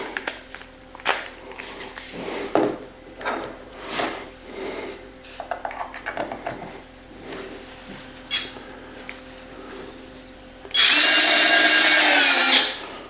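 An Amazon Basics 4V cordless screwdriver starts after some handling clatter and knocks. It gives a loud, close, steady high-pitched motor whine that lasts about two seconds near the end.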